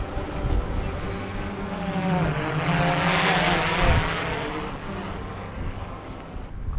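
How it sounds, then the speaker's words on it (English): A mini drone flies over the Icelandic highlands near a waterfall, its propellers giving a steady, fairly loud whir that swells and eases a little over several seconds against wind and rushing water. "I like flying a mini drone."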